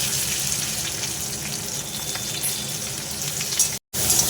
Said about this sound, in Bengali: এবার আমি দিয়ে দিলাম তেলের মধ্যে